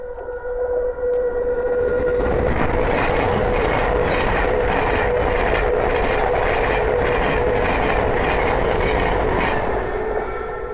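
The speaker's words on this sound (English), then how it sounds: "the next train to pass by is a Thameslink 700 from Peterborough to Horsham." A Thameslink Class 700 train passes at Langford on the East Coast Main Line with a loud, steady roar and rail rumble lasting several seconds, plus a faint sustained tone and rhythmic wheel clatter.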